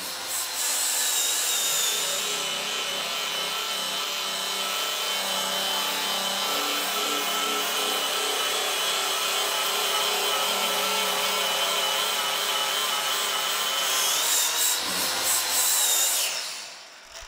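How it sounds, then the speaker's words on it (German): A power sander grinds surface rust off the bare steel body of a VW Beetle, a loud, continuous rasping whine that holds steady for about sixteen seconds before tapering off. "Ahmet schleift den oberflächlichen Rost ab."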